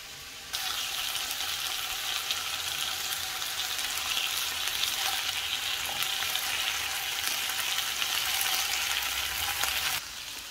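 Potatoes and vegetables sizzle in a frying pan, a steady close crackling hiss that runs unbroken for about ten seconds and cuts off briefly at the end.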